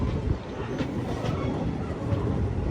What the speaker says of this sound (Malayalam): ദിബ്രുഗഡിൽ നിന്നും 42 കിലോമീറ്റർ യാത്ര ചെയ്ത് ട്രെയിൻ ന്യൂ തിൻസുക്കിയ ജംഗ്ഷൻ സ്റ്റേഷനിലേക്ക് എത്തിക്കൊണ്ടിരിക്കുകയാണ്.